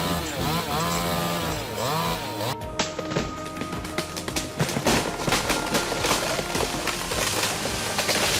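A chainsaw cuts through a big tree, its engine loud and continuous, revving with rising and falling pitch before settling into a rough, steady cutting roar.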